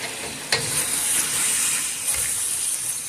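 Chili chicken being stirred in a hot pan just after a spoonful of sugar goes in: a loud, continuous sizzle with a sharp scrape near the start and soft stirring movements throughout, close-up and with no voices.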